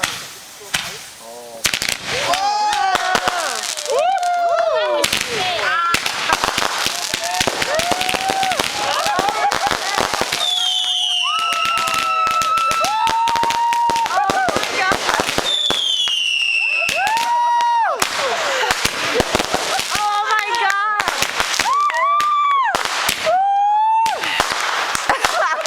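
Canada Day fireworks bang and crackle repeatedly at a backyard gathering, with loud sharp reports, whistling rising shells and dense crackling, while people exclaim and talk throughout.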